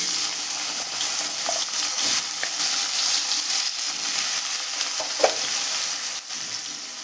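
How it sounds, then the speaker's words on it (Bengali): Diced brinjal frying in hot oil while being stirred, a continuous close hiss of sizzling with occasional scrapes and knocks of the spatula, no voices. "তেল গরম হয়ে গেছে, এখন এই তেলের মধ্যে ডুমো করে কাটা বেগুনগুলো দিয়ে দেব।"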